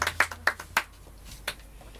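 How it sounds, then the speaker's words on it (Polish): A few people clap their hands at a small family Christmas gathering, giving four or five sharp nearby claps and then one more a moment later. The sparse claps are distinct, with no talk. "Wielkie brawa dla Donata."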